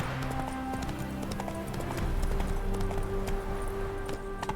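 Roach the horse gallops in The Witcher video game with rapid, rhythmic clip-clop hoofbeats, close and steady, mixed with game music and ambient sounds.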